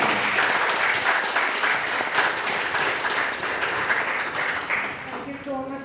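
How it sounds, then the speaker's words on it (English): A big round of applause from the audience at a mediation competition final, dense clapping that holds steady and then thins out near the end, with some voices underneath. "Can I solicit a big round of applause for the OCT?"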